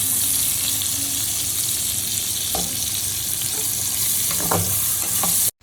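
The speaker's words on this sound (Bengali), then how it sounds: "সেই তেলের মধ্যে পেঁয়াজটা দিয়ে ভালো করে ভেজে নিলাম" Onions fry in hot oil left in a pan after frying fish, a loud, even sizzle with a few faint clinks, cutting off abruptly at the very end.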